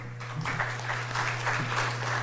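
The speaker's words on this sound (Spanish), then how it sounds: "para quien les pido un fuerte aplauso de favor" An audience claps steadily at a university book presentation at the Universidad Michoacana de San Nicolás de Hidalgo, a dense, even patter of applause over a constant low hum, with no talking.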